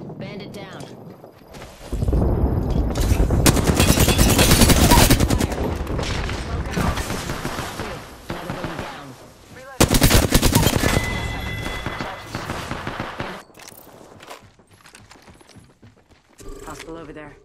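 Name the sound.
gunfire in the video game Apex Legends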